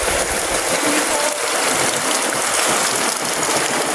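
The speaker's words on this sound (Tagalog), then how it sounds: "nabutas yung piping ng tubig" Water gushes steadily from a punctured water pipe serving as a makeshift shower at an adventure park, a loud continuous broadband splashing and hiss with no talk over it.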